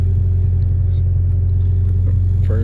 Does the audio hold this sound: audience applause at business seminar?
no